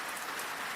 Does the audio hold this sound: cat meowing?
no